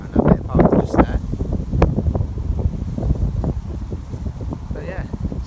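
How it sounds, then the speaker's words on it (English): Strong wind on a lake buffeting a microphone with low rumbling gusts throughout, under someone talking. "it's quite windy"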